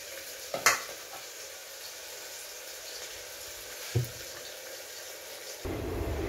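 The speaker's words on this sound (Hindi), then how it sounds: "इसे अच्छे से 2 मिनट तक फ्राई होने दूंगी।" Soybean chunks fry in a pan for veg biryani, giving a steady low sizzle with two brief sharp clinks of utensil against pan and a louder, fuller frying hiss near the end.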